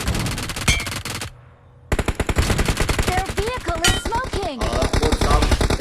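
Rapid bursts of automatic gunfire from a video game, a brief pause, then more continuous shooting with whooshing effects and faint voices underneath.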